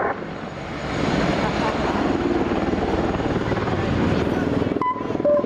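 A helicopter gunship flying a display at the Navy Yeovilton airshow in 2015 fills the air with a loud, continuous rotor and engine roar that builds early and holds steady, with a brief sharper tone near the end.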